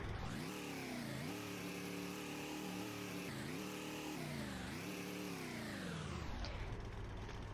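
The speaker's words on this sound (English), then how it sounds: "So now let's do a rev test." A car engine in the Roblox game Greenville revs repeatedly, rising and falling in three or four sweeping pulls, loud and close, then dropping back toward idle at the end.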